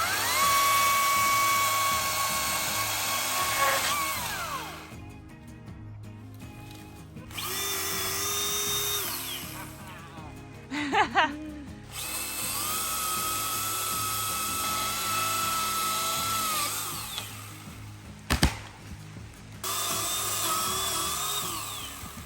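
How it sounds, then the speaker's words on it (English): Chainsaw engine screams and revs up and down in long bursts with brief drops, loud and close, no talking. "After playing around with our new chainsaws"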